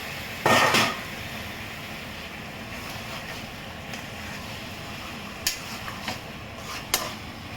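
A kilo of chicken drops into a pan of fried spices with a brief heavy sizzle and clatter, followed by sparse metallic scrapes and taps as it is stirred.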